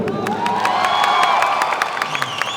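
A live audience at a Malayalam film promotion event with actor Asif Ali claps loudly and cheers, with sharp whistles and whoops cutting through a dense, continuous wave of applause.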